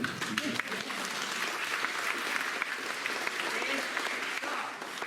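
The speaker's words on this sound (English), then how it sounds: "Clap for you." Sustained audience applause fills the hall at a plenary session in Hilo, a dense steady patter of many hands clapping without a break from start to finish.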